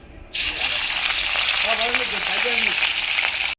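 A sudden loud burst of sizzling as rohu fish pieces hit hot oil in a wok, then a steady, intense crackle close up, with a voice briefly speaking underneath.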